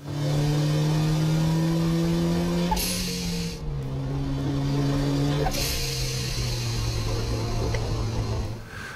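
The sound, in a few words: turbo blow-off valve venting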